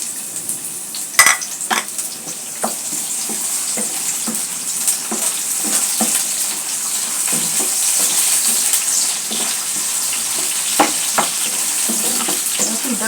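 Chopped garlic fries in hot mustard oil in a frying pan, a loud steady crackling sizzle overlaid by frequent light spatula taps and scrapes throughout.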